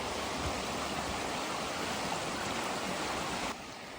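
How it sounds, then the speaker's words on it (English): Steady broadband rush of falling water at Twin Falls on Maui, a continuous close wash of white noise that drops slightly in level near the end, with no voices. "there's another little mini waterfall over here that Max is gonna go to."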